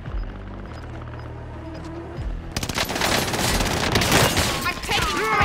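Call of Duty Warzone gunfire erupts midway as sustained rapid automatic bursts, loud and close, after a quieter stretch of game ambience and tones.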